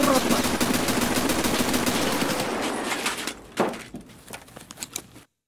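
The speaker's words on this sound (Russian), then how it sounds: "давай попробуем пострелять по Тагиле так же" Automatic gunfire from Escape from Tarkov, aimed at the boss Tagilla in the Factory map, rattles fast and dense for about three seconds. It then breaks into a few scattered shots and clicks before stopping.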